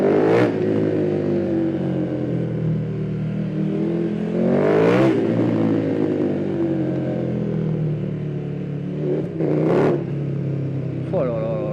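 A 2020 KTM 1290 Super Duke R with a full Akrapovic exhaust line revs hard in loud, sustained bursts with sharp throttle blips, while someone talks excitedly over the engine.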